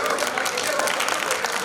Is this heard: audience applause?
yes